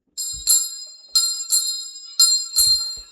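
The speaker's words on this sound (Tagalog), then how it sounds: "Ayan din ang bell." Handbell rung during a house blessing ritual in Tabogon, Cebu, giving bright, clear chimes in uneven pairs of strikes, close and loud, each ring left to decay briefly, with no talking.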